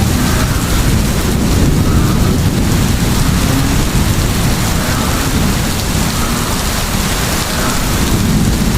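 Heavy rain pours steadily with a deep, continuous rumble of thunder underneath, loud and unbroken throughout with no voices.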